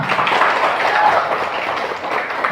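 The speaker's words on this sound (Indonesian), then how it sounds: "tepuk tangan untuk kita semua." Students in a classroom clap together in a brief burst of dense applause that stays steady and close throughout.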